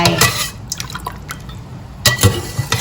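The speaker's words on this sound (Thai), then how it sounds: "เสร็จแล้วเราก็ตักขึ้น เพื่อจะไป พักให้เสด็จน้ำแล้วก็ทำให้แห้ง" Washed peanuts scooped out of water before dry-roasting, with water splashing and draining in steady trickles and a few louder sloshing scoops near the end, close and clear with no talking.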